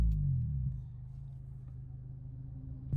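An Acura RSX DC5 with an Invidia N1 catback exhaust, a deep low rumble that swells briefly at the start, settles into a steady idle drone and lifts slightly again at the end.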